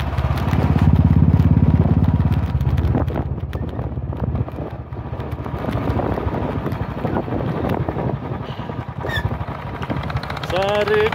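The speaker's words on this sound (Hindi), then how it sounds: "बहुत सारे बाइकर्स दिख रहे हैं," Motorcycles ridden by a group of bikers pass by on a mountain road at Gata Loops in Ladakh, their engines roaring loudly under heavy wind buffeting. A voice talks over the noise.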